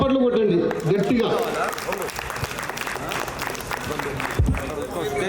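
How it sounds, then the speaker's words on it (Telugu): An audience clapping at a Hindu Sammelan gathering, a dense burst of applause from many hands that carries on under a loud voice with some music, swelling and fading unevenly. "చప్పట్లు కొట్టండి గట్టిగా"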